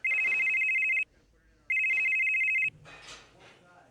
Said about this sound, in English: ringing Loki